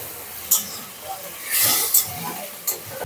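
Water poured onto a hot ground paste of ginger, cumin, fennel and coriander in a pan gives short, sharp hisses, with one longer steamy burst in the middle and quieter flares around it.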